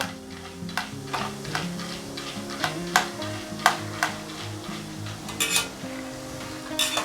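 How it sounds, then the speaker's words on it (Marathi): Chivda ingredients fry in oil on a low flame, a soft continuous sizzle broken by repeated sharp scrapes and taps of a spoon against the pan, fairly close and quiet, with no voices. "हे पण आपल्याला छान क्रिस्पी होस्तोपर्यंत असे तळायचे आहेत अगदी जास्त असे नाही तळायचे लो फ्लेमवरतीच हे दोन ते तीन मिनटं असे तळून घ्यायचे आहेत"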